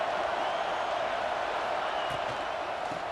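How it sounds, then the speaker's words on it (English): A packed stadium crowd roars throughout a Florida vs Texas A&M college football game, a dense, steady wall of cheering that never lets up. "This crowd, full throat, splitting the eardrums and letting them know it's going to be a long day"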